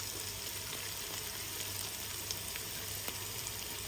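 Curry leaves, ginger, garlic and cumin sizzle steadily in hot oil, a continuous close frying hiss with a few small pops, no voices.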